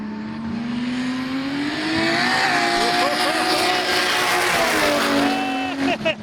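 At a drag strip, a race car launches and accelerates hard, its engine note climbing and holding for several seconds as it pulls away. Excited voices are heard over the engine.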